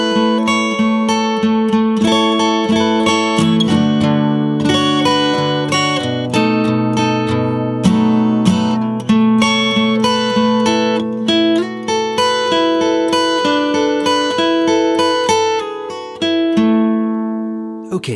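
Acoustic guitar plays the chorus of a song at a slow, even tempo, with a continuous stream of picked notes and chords ringing close and clear with no voices, ending on a fading final chord.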